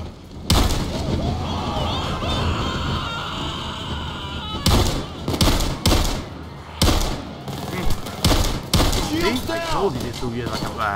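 Rapid bursts of plasma rifle fire in Payday 2 during the Hoxton Breakout heist, loud and close, with sharp broadband volleys separated by short gaps and speech running underneath throughout.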